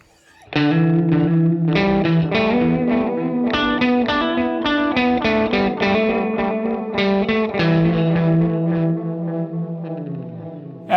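Electric guitar run through a Recovery Effects Moonstruck analog delay with spring reverb blended in, a flowing phrase of gritty notes whose echoes smear into a wet, splashy tail, loud and continuous until a final note rings out.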